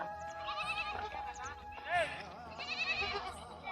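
A goat at a Dhangar herders' hamlet bleats in a few quavering calls, close by, while people talk over and around it.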